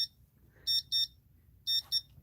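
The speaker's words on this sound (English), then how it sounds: "Beep, beep." Four sharp electronic beeps in two quick pairs, high-pitched and fairly loud, with quiet background between them.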